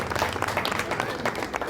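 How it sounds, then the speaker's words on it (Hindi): Audience applause at a Ramleela stage event in Udhampur, a dense steady burst of many hands clapping throughout, fairly loud and close with no talk over it. "एक बार जोरदार तालियां।"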